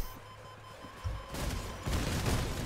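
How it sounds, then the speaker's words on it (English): Repeated Hurricane weapon fire from a sniper half-track in the vehicle combat game Crossout, heavy booming blasts that arrive in thick overlapping bursts and grow louder toward the end. "I'm just taking hurricane fire over and over and over with this thing."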